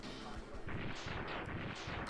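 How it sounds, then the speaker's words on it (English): Rapid, booming explosions burst in quick succession in Mega Man X3, loud and close, with crackling blasts layered over one another. "Don't you know, Blizzard Buffalo, cool guys don't look at explosions."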